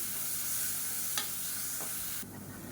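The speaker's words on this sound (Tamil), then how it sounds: "இஞ்சி பூண்டு பேஸ்ட் நல்லா வதங்கிருச்சு." Ginger garlic paste sautéing in a pan for biryani gives a dense, steady sizzle with a couple of sharp stirring scrapes, close and continuous. It eases slightly toward the end, with no one speaking.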